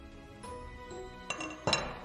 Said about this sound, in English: I take out the glass tube